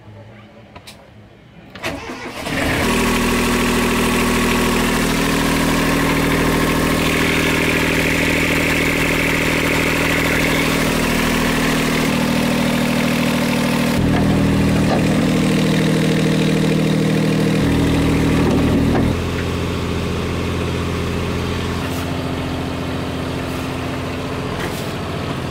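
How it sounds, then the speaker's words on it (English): A vehicle engine cranks and catches after repair work, then settles into a loud, steady idle with a deep, even rumble that runs on with small shifts in pitch. "We're finishing the work on the engine. It's kind of exciting. We're gonna get it started."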